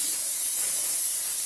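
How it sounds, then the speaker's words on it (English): Polish cleaner sprayed from a can onto the plastic clamshell casing of a Worx drill, one continuous loud, close hiss with no voices. "You take this and you just spray it all over the clamshell"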